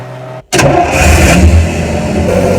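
An armored military vehicle's engine cranks after a brief silence, catches, and roars into a loud, steady, rumbling run close by.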